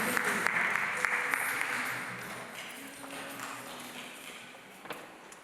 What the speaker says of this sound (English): So can we clap for ourselves for being here?